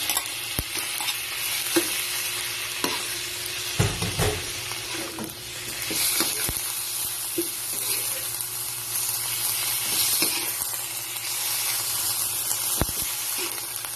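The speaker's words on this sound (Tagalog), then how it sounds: "Ilalagay naman po natin ang ating chicken liver." Chicken livers stir-fry in a hot pan, a steady loud sizzle broken by repeated sharp spatula scrapes and taps at irregular intervals.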